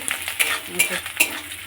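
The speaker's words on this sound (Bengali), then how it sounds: "লঙ্কা, পেঁয়াজ, ক্যাপসিকাম এখানে এই যে ভাজা হচ্ছে" Chilli, onion and capsicum frying in a pan for chow mein, a soft sizzle punctuated by evenly spaced spatula scrapes and clinks, close and fairly quiet.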